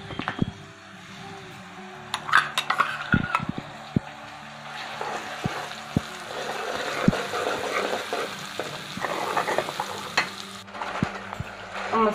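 Green chillies and masala with tomatoes fry in oil in a pan for a village-style mangodi sabzi, a close steady sizzle broken by sharp ladle scrapes and clinks as the mixture is stirred, with no talk.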